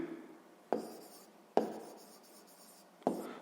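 Three separate bursts of pen or pencil scratching on paper as numbers are written down by hand, each stroke sharp at the start and fading out, close and clear with quiet pauses between them.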